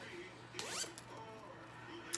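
A yellow zipper on a handmade bag with a paisley lining is pulled open in one quick rasping run, close and quiet, followed by a couple of soft handling clicks.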